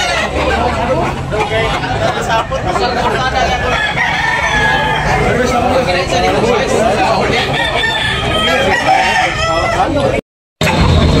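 Roosters and chickens at a Talisay, Cebu poultry market, with crowing amid a busy crowd, constant chatter and babble, and a brief cut near the end.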